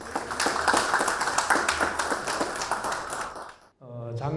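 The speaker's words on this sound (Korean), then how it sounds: "큰 박수로 맞이해 주시기 바랍니다." Applause and clapping from a seminar audience welcoming a guest speaker at a regional broadcasting forum on local media, dense hand claps for about three and a half seconds before a voice begins speaking.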